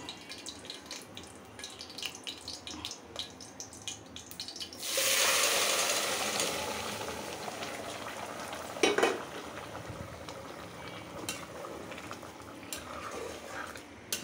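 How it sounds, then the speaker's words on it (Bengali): A sudden loud sizzle bursts up as tempering spices hit hot oil with fried onions, then settles into a steady frying hiss with a brief clatter of stirring. "পেঁয়াজটা ভাজা হয়ে গেছে, এখন বাগার দিয়ে দিব।"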